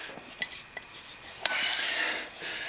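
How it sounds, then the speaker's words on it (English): A screwdriver is tapped under the rim of a small tube-type tire. A few faint, sharp metallic taps are followed by a longer, quiet scraping rasp as the tool is pressed in. "just tap that screwdriver in, and then put pressure down"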